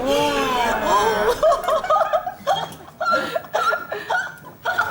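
A woman in a Turkish comedy sketch makes a string of squeaky, hiccup-like lovesick noises, several short high yelps in an uneven rhythm, close and fairly loud, mixed with chuckling.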